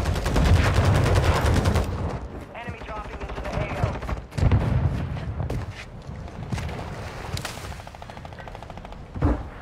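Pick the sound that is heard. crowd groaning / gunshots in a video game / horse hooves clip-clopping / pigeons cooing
gunshots in a video game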